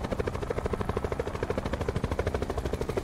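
Helicopter in a video game, a steady rapid rotor chop with a continuous pulsing thump, loud and close, with no talk over it.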